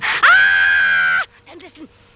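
A woman's long, loud, sustained scream rising sharply then holding steady for about a second, followed by faint breathy vocal sounds.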